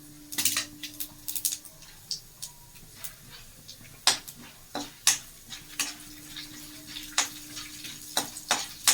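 Mustard seeds and chana dal crackle and pop in hot tempering oil in a pan, with sharp irregular pops over a quiet sizzle and occasional light stirring.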